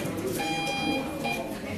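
A Morse code letter R tapped out on a telegraph key buzzer, a short-long-short pattern of steady electronic tones over a busy room background with some talk nearby.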